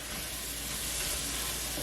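Flour cooking into pork chop pan juices for an onion pan sauce gives a steady, close sizzle with a faint stirring texture, continuous and even throughout, with no voices.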